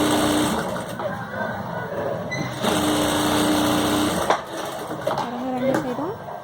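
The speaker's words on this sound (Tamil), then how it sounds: "1 இன்ச் அளவுக்கு நான் தைக்க போகிறேன்." Domestic sewing machine stitching the side seam of a child's silk skirt, a steady whirring run close up that pauses and restarts, with background noise throughout.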